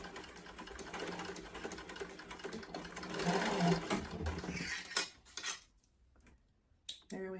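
A sewing machine runs in a steady, rapid stitching burst while basting the end of a fabric sling bag shut, then stops briefly before a short restart, with faint clinks around it.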